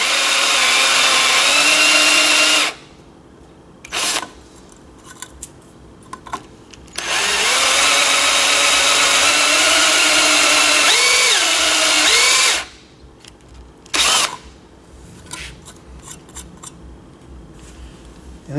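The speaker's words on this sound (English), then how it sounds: "So I marked my bit, and now I'm going to enlarge my hole." A power drill bit enlarges a hole in 3/16 inch material, running in two long whining bursts with short starts and pauses between them, close and loud with no speech.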